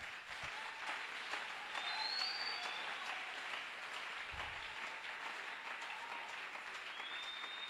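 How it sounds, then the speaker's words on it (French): A church congregation applauding, a steady spread of clapping that carries on evenly from start to finish at moderate distance, with no one talking over it. "On peut acclamer."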